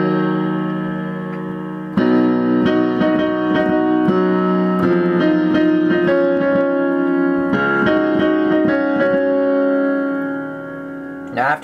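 Piano plays an advanced arrangement of the song: close, full chords struck every second or two, ringing into one another with no voice over them.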